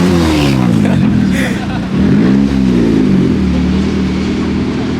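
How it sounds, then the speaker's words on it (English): Car engines rev and drone loud and close at Daikoku PA in Japan late at night. Pitches rise and fall in sweeping revs as cars pull in, with a dip near the middle. "there's still more cars coming in now at 12:30 at night"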